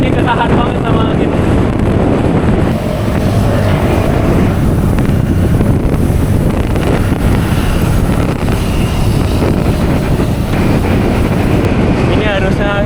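Strong wind roaring steadily into the microphone while cycling downhill without braking at around 30 km/h, a constant loud buffeting rush that covers the whole stretch.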